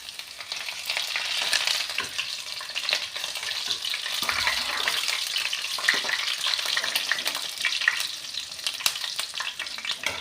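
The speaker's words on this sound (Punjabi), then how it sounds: "ਤੇਲ ਆਪਣਾ ਗਰਮ ਹੋ ਚੁੱਕਿਆ ਵਿੱਚ ਐਡ ਕਰਤਾ ਜੀਰਾ ਨਾਲੇ ਪਾ ਲਿਆ ਲਸਣ" Cumin seeds and garlic sizzle loudly in hot oil for a potato and carrot sabzi, a dense continuous crackle with scraping stir strokes of a spoon against the pan, close and without talk.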